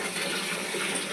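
Water runs steadily as cold water is mixed into hot bath water, a continuous close, even gush filling the tub with no voices.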